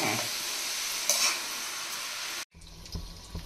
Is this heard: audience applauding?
no